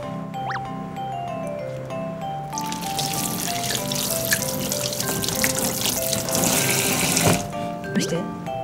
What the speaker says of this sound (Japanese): じゃあ手を洗いましょう。